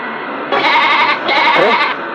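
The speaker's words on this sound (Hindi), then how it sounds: "अरे बकरी के चिल्लाने की आवाज आ रही है" A goat bleats loudly and close by in two long, wavering cries separated by a brief pause, with steady background hiss behind them.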